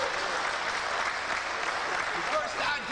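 Audience applause fills a lecture hall, a dense continuous wash of clapping from many hands that holds steady and loud throughout with no pause.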